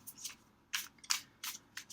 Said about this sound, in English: we're shuffling the Astro Soul Oracle deck right now